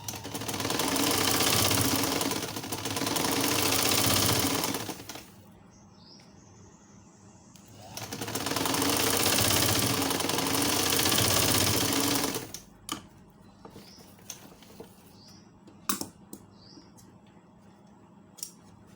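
An electric sewing machine stitches leaf-shaped fabric coasters in two loud, steady runs of several seconds each, separated by a quiet pause, followed by scattered light clicks and taps.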